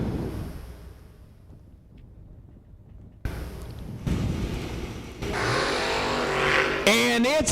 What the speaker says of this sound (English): And it's a drag race